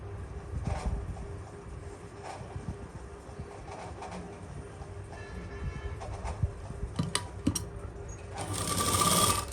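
A sewing machine runs steadily while stitching the seams of a Burberry lining suit, a continuous mechanical whir with faint rhythmic clatter that grows louder near the end, with no voices.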